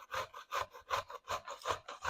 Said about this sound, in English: See how my new grater has this little dish and it grates right into here.